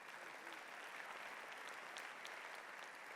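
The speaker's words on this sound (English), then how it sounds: "Please give all of them a round of applause." Audience at an awards banquet clapping, a dense, even wash of many hands filling the room from a distance, steady throughout without pause.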